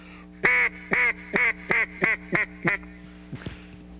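Seven close, raspy quacks from a duck call mimic a begging, lonesome hen mallard, evenly paced and tapering slightly, followed by a few faint knocks and then quiet.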